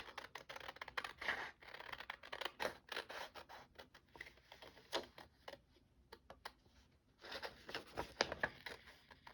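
Scissors cut out a piece of paper for a junk journal glue book, giving a long, busy series of close, crisp snips and rustles with a short pause near the middle.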